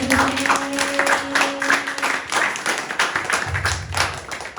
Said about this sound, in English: A round of applause for Pearlyn, please